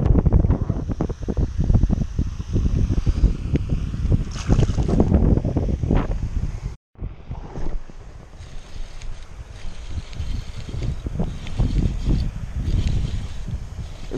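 Wind blows hard across a pond during bass fishing, rumbling and buffeting the microphone almost continuously, with one abrupt momentary dropout midway.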